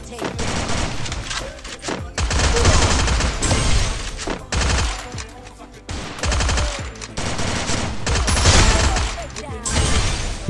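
Heavy gunfire in the Garena Free Fire battle game, with dense automatic bursts and loud shots filling nearly the whole stretch, while a player talks excitedly over it.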